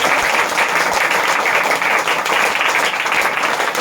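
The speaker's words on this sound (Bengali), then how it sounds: "জোরদার তালি করেন, জোরদার তালি করেন" A church congregation claps loudly and continuously during a worship service, a dense, steady wash of many hands that holds at full volume throughout.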